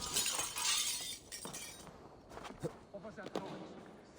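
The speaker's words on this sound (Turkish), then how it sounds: "Kilisenin arkasında kırılgan bir cam varmış." Fragile glass church window shattering in Assassin's Creed Valhalla, a loud crash followed by scattered tinkling shards and thuds, with someone talking over the tail.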